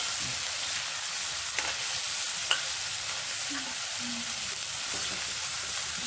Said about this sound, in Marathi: तळून घ्यायचे थोडक्यात